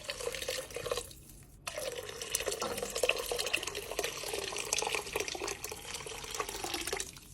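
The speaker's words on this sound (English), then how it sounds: "You can now go ahead and start adding in your 8 cups of your stock, or broth" Eight cups of chicken broth pour into a pot for Italian wedding soup. The stream runs as a steady, close splashing gush, breaks off briefly after the first second, then resumes and runs on without talk.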